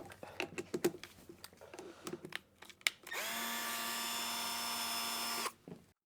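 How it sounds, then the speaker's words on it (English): On a 1993 Suzuki RMX 250, scattered clicks and taps of handling lead into a power tool's steady whirring burst of about two and a half seconds while the clutch pressure plate comes off, fairly faint overall. "Pulling the pressure plate off."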